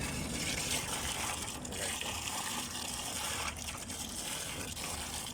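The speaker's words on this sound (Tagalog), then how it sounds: "Ayun naman yung ating submersible pump na umihigop." A submersible pump draws up bentonite slurry on a night-shift diaphragm-wall concreting site, giving a continuous gushing, churning wash of liquid that stays steady and moderately loud throughout, with no talking.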